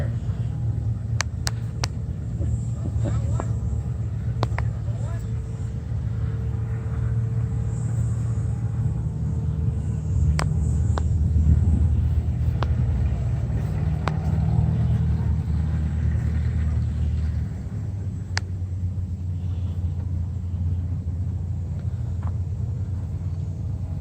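Turbocharged tractor engine running at a tractor show and swap meet, a steady deep rumble with a low droning hum and occasional faint clicks, heard from nearby over a few long stretches, no speech.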